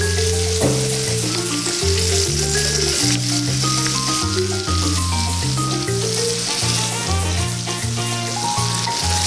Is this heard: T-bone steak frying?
yes